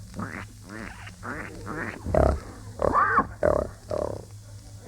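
A man imitates a pig on an old-time radio farm sketch with a run of snorting, rhythmic grunts, some longer and louder, close up and without other talk.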